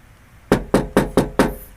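Five quick knuckle knocks on the bare, untreated driver's side rear door panel of a car, sharp and tinny with a hollow ring, evenly spaced and close.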